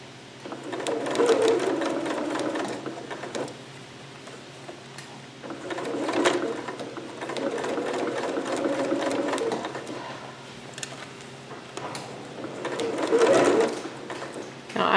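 A sewing machine stitches over basting on a sleeve in several slow, deliberate bursts, each running a few seconds with pauses and handling between them.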